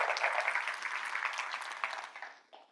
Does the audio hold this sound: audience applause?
yes